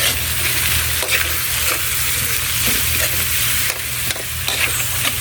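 Egg being mixed into bitter gourd and banana frying in a pan, a loud, close, continuous sizzle with steady stirring scrapes and a low hum beneath, no voices.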